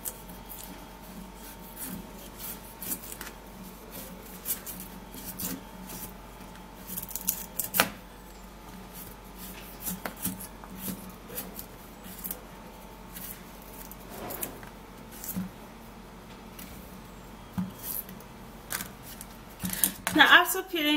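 A sweet potato is peeled by hand, with irregular soft scraping and light clicks close by over about twenty seconds, and faint room hum underneath.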